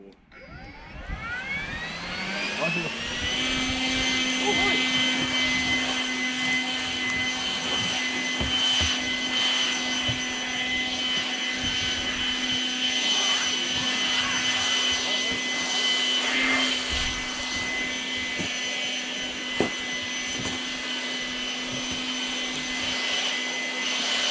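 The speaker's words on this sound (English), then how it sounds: "so let's try that electric blower." An electric snow blower runs steadily outdoors in cold, windy winter weather, a loud constant whining roar that spins up in the first few seconds and then holds alone at a high pitch.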